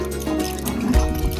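Water pours from a bucket in a short, steady splashing gush that swells near the end, close by and with no talk over it.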